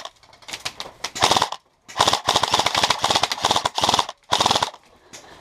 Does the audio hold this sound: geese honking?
no